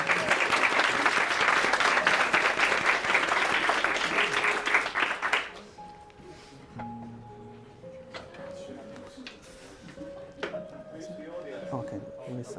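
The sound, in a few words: audience applause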